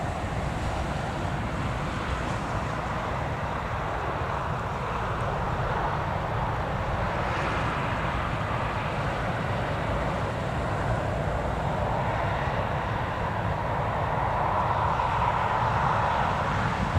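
A KLM airliner taxiing at Newcastle Airport: a steady broad roar of jet engines heard from a distance, mixed with wind buffeting the microphone, continuous for the whole stretch with slight swells.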